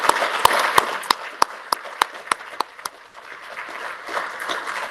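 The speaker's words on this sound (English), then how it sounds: "let's just give him an applause" An audience at an award ceremony applauds, a dense wash of clapping with a few sharp individual claps standing out, tapering off after a few seconds.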